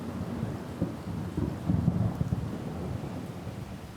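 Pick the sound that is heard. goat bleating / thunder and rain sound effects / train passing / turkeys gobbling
thunder and rain sound effects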